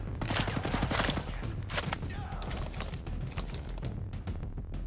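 Rapid bursts of gunfire in the Ghost Recon Breakpoint video game aimed at a vehicle's tire, a quick volley of crisp shots up front followed by scattered quieter reports and mechanical clatter.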